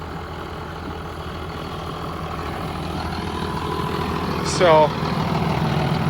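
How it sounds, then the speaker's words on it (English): Steady low rumble of a tractor engine running in a field during tillage, constant and close, with a brief spoken word and a short whine near the end. "This is a nice tractor."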